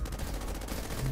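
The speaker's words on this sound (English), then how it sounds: "we're just gonna sit here and let them run into the gun turret" A gun turret in the video game Bionic Dues fires at enemies, a dense, continuous rapid gunfire rattle lasting about a second.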